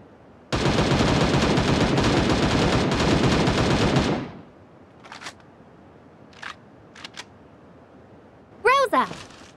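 AKM rifle firing in the Sausage Man shooter game: a loud sustained automatic burst lasting about four seconds, followed by a few faint clicks of handling and a short metallic reload rattle.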